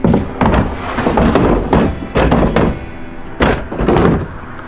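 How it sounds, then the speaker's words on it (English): A big drawer is pushed into a deck storage system, making repeated heavy thunks, knocks and sliding rumbles in irregular bursts, loud and close. "Big drawer in and repeat that process."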